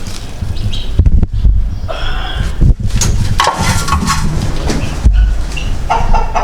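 A rooster clucks and calls loudly up close, with repeated squawking bursts and a short pause in the middle.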